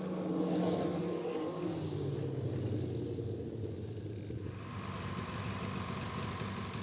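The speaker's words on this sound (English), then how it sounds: "This test measures the levels of noise pollution from a snowmobile's engine." A snowmobile engine runs steadily during a noise-pollution test at an engineering test facility, a low, even rumbling drone, fairly faint and unchanging throughout.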